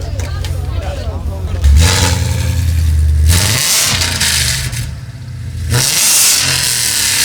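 A Mustang with a full Corsa Extreme exhaust from the headers back, plus an air filter and tune, revs loudly in two or three deep bursts close by, with people talking around it at a car show of American classics.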